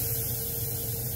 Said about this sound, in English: Let me see if I'm spraying right.